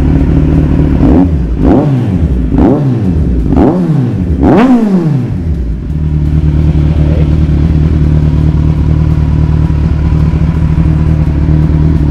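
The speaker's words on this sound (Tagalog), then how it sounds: "Yan po ang exhaust ni N1. So, dalawa siya. Kaya mas maingay." A Kawasaki Ninja 1000 SX with a twin exhaust is revved in four or five sharp throttle blips, each rising and falling, before it settles into a loud, steady idle rumble. No one speaks.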